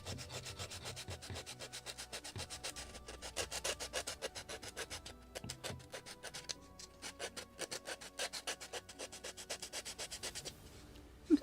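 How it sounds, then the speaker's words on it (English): Repeated rhythmic strokes of sanding rasp across a wooden Midwest kit model of a Muscongus Bay lobster smack. The passes come close and steady with brief pauses between runs. "I'm thinking about to cut it because too much sanding."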